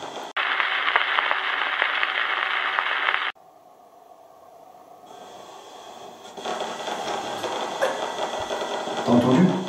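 A Ghost Box radio sweeping through stations during a paranormal investigation in a reputedly haunted house: a loud burst of harsh static, an abrupt drop to a quieter hiss, then choppy scanning noise that swells again toward the end.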